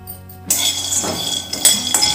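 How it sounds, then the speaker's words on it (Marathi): Raw peanuts tipped into a hot kadai for dry roasting, part of making a dry red chilli seed chutney: a sudden rattle of small hard clinks sets in after a brief silence, followed by a few more bursts of scattering and rolling. "शेंगदाणे टाकते"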